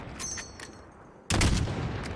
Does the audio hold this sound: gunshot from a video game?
yes